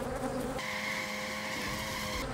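Honeybees hum densely around a hive frame during a hive split, a close, steady, loud buzz that fills the whole moment with no voices.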